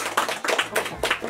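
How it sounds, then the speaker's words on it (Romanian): Family members clap at a 13th birthday surprise at home, a short burst of several hands clapping in an uneven rhythm, close and moderately loud. "hai să aplaudăm cu toți"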